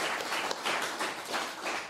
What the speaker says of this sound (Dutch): Ik wil graag een warm applaus voor Egbert Dommering, Maurits Martijn en El